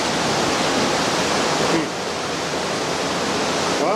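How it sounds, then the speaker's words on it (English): Water running out through the floor of an old shut-down mine at Woodbury Creek, a loud, steady broadband rush that dips slightly partway through and then continues unbroken. "there's the water running out through the floor here"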